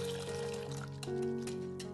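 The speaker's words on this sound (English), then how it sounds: "Add a glass of boiling water." Boiling water pours into a bowl of beaten eggs with a soft splashing trickle, mostly masked by steady background music.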